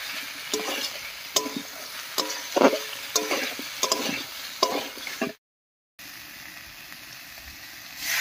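A spoon stirs cauliflower and potato curry with salt in a pan of hot oil, scraping and sizzling in a steady rhythm of close strokes, then stopping briefly before a continuous frying hiss resumes.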